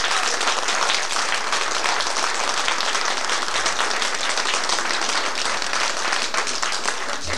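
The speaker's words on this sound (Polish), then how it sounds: "Gorące brawa dla całego." Steady, sustained applause from a large audience at a concert in Czeladź, Poland, dense clapping holding at an even level throughout.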